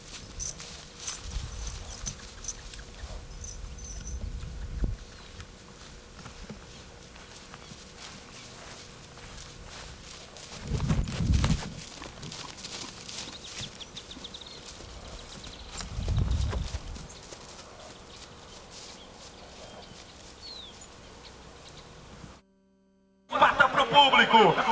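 Horse hooves at a gineteada rodeo, with the bronc horse Conhaque nearby: scattered dull thumps and clip-clop steps under steady crowd and arena noise, with a few louder bursts of hoofbeats.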